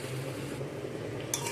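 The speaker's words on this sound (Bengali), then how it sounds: "জল দিয়ে সব কিছুকে একটু নাড়াচাড়া করে মিশিয়ে দিচ্ছি।" Pumpkin and vegetables stirred with a little water in a pan, a steady close scrape and low simmering wash with a faint clink of a utensil near the end.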